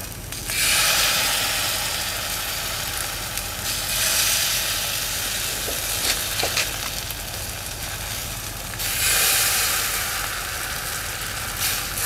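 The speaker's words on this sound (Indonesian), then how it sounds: "Oh, dioseng-oseng dulu ya" Steady, loud sizzling of sausage stir-frying in a hot pan, with a few soft clinks and scrapes of stirring partway through; no talking.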